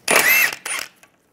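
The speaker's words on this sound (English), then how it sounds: "take your wheel lock key, find your wheel lock, take that off first using a 17 millimeter socket" Two quick ratcheting bursts up close as a ratchet with a 17 millimeter socket turns a wheel lock off a 1998-2010 Volkswagen Beetle during a rear brake job, then silence.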